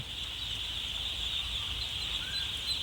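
Three-day-old Khaki Campbell ducklings in a crowded group at a farm unit, giving off a dense, continuous high-pitched peeping chorus close by, steady in loudness, with a low rumble underneath.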